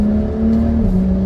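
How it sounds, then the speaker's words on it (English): A BMW 135i on a launch-control start pulls hard under full throttle, its engine note a loud steady drone close by, with a quick gear shift audible as a brief pitch drop partway through. "as soon as you apply the throttle, it goes. Ooh, shifts are very fast."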